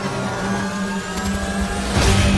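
Race cars at the 24 Hours of Le Mans endurance race, a loud continuous engine roar with a rising whine, building to a sharper surge as a car blasts close by near the end.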